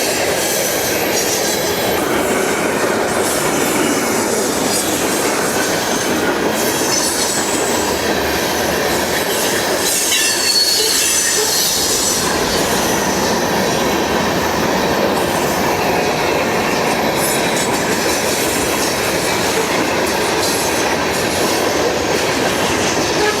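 A freight train rolls past near Pembroke and Hopkinsville, Kentucky, loud and close for the whole stretch, with rhythmic wheel clatter and high squealing from the wheels, and no voices.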